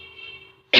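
A single sharp cough bursts out near the end, loud and close, after a stretch of quiet room tone with a faint steady hum.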